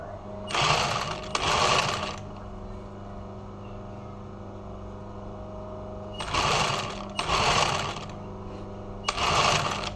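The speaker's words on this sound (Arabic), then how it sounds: "نبدا نخيط" A sewing machine stitches a crystal-trimmed caftan with sfifa braid, running in loud, close bursts of rapid stitching: one pair early on, then three more near the end, with a steady low hum underneath.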